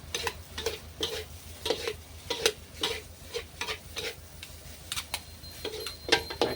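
Vegetables are tossed in a hot wok with egg for fried rice, giving rhythmic scraping and clanking stir strokes roughly twice a second over a soft, low sizzle, close and fairly quiet.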